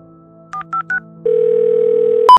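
A telephone is dialed, with three short electronic key beeps followed by a loud, steady tone and a brief sharp higher tone at the end.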